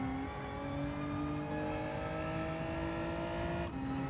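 A Gr.4 race car in Gran Turismo 7 accelerates with a loud, steady engine note climbing in pitch through the gears, with one brief gear-change dip near the end and no voices.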